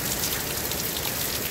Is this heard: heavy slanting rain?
yes